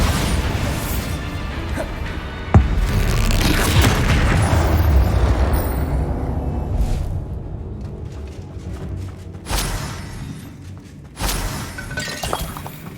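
A Bombarda blasting spell from Hogwarts Legacy bursts with a sharp crack and shattering crash, followed by a long rumbling tail and two more smaller debris impacts later, loud and close with no talk.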